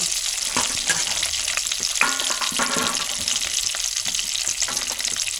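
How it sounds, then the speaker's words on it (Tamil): Small onions and garlic sauté for a mutton curry, a steady close sizzle with scraping stir strokes throughout. "எல்லாம் போட்டாச்சு இப்போ வணக்கிட்டுருங்க"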